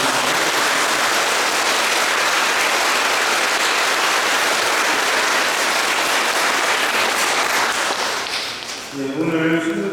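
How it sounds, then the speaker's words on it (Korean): Sustained applause from a church congregation welcoming a visiting Catholic bishop on a pastoral visit, dense and steady for most of the stretch before thinning out, with a few voices breaking through near the end. "환영의 박수."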